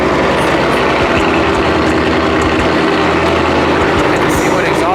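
A loud, steady Ford S650 Mustang engine drone with deep low rumble, idling continuously throughout with some voices in the background.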